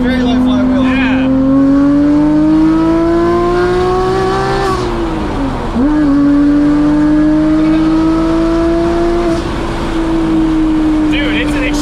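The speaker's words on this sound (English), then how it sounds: "Damn, the revs come down so fast." Car engine with a very light flywheel and manual clutch revving, loud close tone climbing steadily, dropping sharply as revs fall quickly, then rising and holding again, with people talking over it.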